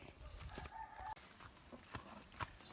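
Chickens clucking faintly in the background of a quiet, noisy outdoor scene in the rural Philippine countryside, with a few soft calls.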